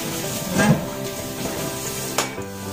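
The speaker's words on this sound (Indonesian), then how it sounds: "Nah, kita masukkan juga labu siamnya langsung ya, kayak gini." Chopped chayote added to a pan of liquid and stirred, with close scraping and clinking of a utensil against the pan over a steady sizzling, bubbling bed of sound.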